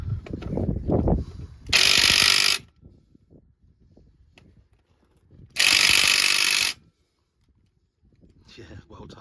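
A ratchet working on the bolts of a Mercedes C220 gearbox gives two loud, fast rattling bursts of clicks, each under a second long, close by. Short exchanges of speech and faint shop noise come between the bursts.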